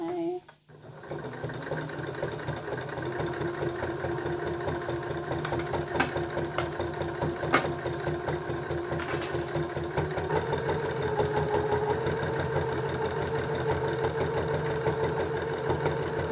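A sewing machine runs steadily while topstitching a cloth menstrual pad, its needle chattering in a fast continuous rhythm close up, with a brief pause at the start and someone talking over it.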